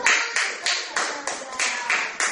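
A classroom of pupils claps in unison on cue from their teacher, about eight sharp, evenly spaced group claps in a steady rhythm, close and fairly loud with no talking over them.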